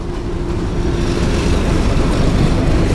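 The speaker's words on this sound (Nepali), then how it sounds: "ट्रेन फाइनली ट्रेन आयो गाइस ट्रेन" A train rumbles past at close range, a loud, continuous roar of wheels and carriages that holds steady and swells slightly toward the end.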